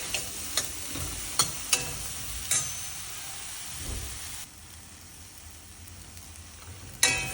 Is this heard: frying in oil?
yes